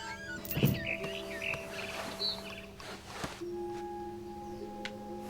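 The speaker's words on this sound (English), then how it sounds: "Then I heard chirping outside my window. It was a barn swallow going back to her nest." A barn swallow chirps outside a window in the video game What Remains of Edith Finch, several brief high chirps scattered over steady ambient game tones and a low hum.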